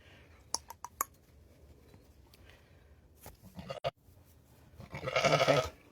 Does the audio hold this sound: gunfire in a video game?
no